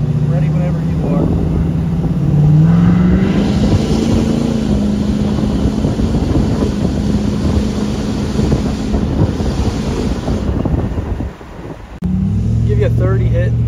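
A 2019 diesel pickup with a 6.7 engine and steel body revs hard, a loud, rough engine roar with rising and falling pitch and some wind buffeting throughout.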